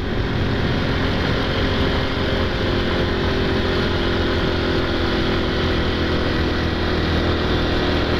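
A Honda Pop 110 motorcycle engine climbs a hill in fourth gear without a downshift, giving a loud, steady, close drone that holds through the whole stretch with no talk.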